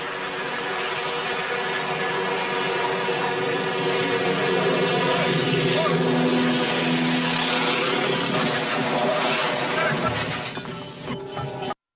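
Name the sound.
malfunctioning helicopter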